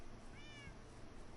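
A single cat meow, rising then falling, sounds briefly and fairly faintly over steady background noise.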